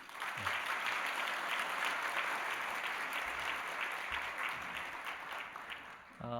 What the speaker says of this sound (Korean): 우리 김준수 장로님 매우 수고하셨는데 우리 박수 한번 드리겠습니다.